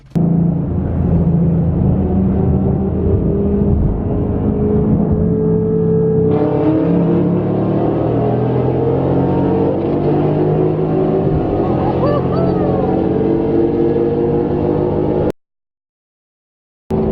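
Cars pull out and accelerate during a night street race in Mexico, heard from inside a 2012 Mustang GT with a steady, loud engine drone that rises through gears before cutting out abruptly near the end; a voice speaks briefly.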